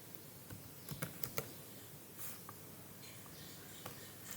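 Keys clack on a computer keyboard as JSON is typed, a quiet, close flurry of clicks clustered early, then a few scattered taps against a faint background hum.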